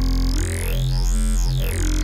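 A growling synth bass from the Vital synthesizer using the Clicky Robot wavetable, its position swept so formant-like harmonics rise and fall in a vowel-like sweep over a steady, loud low drone, heard alone without talk.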